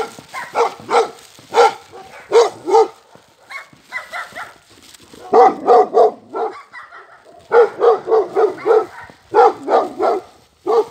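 A dog barks in repeated bursts of two to four sharp, loud, close barks, separated by brief pauses, with some yips mixed in and no talking.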